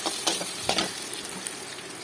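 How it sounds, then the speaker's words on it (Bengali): Banana flower curry ingredients fry in a pan with turmeric, a steady broadband sizzle under a few louder scrape-like stirring bursts, close and moderately quiet. "আলাদা করে না ভেজে এটার মধ্যেই ভেজে নিচ্ছি"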